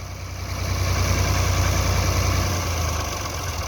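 A Massey Ferguson MF 240 tractor engine idles with a steady low diesel throb and a constant rumble, running alone and close.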